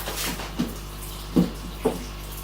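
Water running through a drain hose during an aquarium water change in a fish room, a low steady flowing hiss with three soft gurgling splashes spaced about a second apart.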